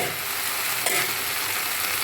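A spoon stirring aloo matar capsicum fish curry in a pan, with steady sizzling frying oil throughout and one brief scrape of the utensil midway, close and fairly loud.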